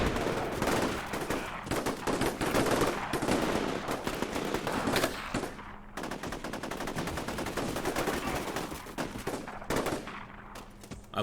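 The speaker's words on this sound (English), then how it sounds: "They are under heavy fire." Heavy gunfire fills the Combat Mission Shock Force 2 battle, with dense bursts of machine-gun and rifle fire rattling continuously at a loud, close level, broken by brief gaps.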